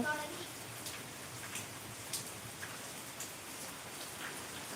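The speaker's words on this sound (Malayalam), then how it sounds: "ഇവിടെ ഭയങ്കര മഴ കേട്ടോ" Heavy rain falls steadily in a broadband hiss with scattered drop patters, moderately loud and continuous throughout, with no voices.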